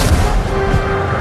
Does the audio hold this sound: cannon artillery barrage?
yes